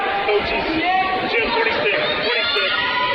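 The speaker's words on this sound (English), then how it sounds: "Decent crowd so far, filing in here to the Young Center" Crowd chatter as fans file into the Young Center arena in Spearfish before a women's college basketball game between CSU-Pueblo and Black Hills State, a steady indoor murmur with a commentator's voice talking over it.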